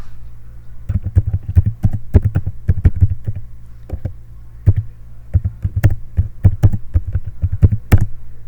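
Computer keyboard typing, close and clear, in irregular bursts of sharp key taps with short pauses between runs, no voices.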